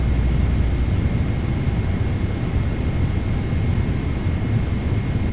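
A PMDG 777-200 airliner in a flight simulator game extends its flaps to 5 on approach, heard as a steady, loud broadband rumble of engine and airflow with a faint constant tone, no talk over it.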